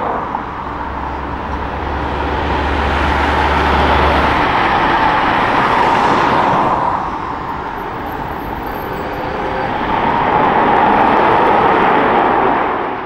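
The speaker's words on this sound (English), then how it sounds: "now back to the very noisy Ferrari." A yellow Ferrari Daytona SP3 prototype with a hybrid V8 powertrain from the SF90 Stradale drives past loudly, its steady roar swelling and easing twice with no talk over it.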